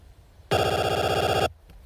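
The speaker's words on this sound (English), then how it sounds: "that's the sound of your remote control" A TV remote control's infrared light turned into sound by a photophone sensor: a loud, buzzy, rapidly pulsing electronic burst lasting about one second, starting and stopping abruptly.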